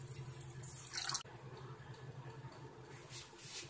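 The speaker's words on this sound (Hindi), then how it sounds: "और इसमें डालूंगी एक गिलास पानी" A glass of water poured into a cooking pot on a gas stove for black tea, a short splashing pour near the start that stops abruptly, followed by faint kitchen background.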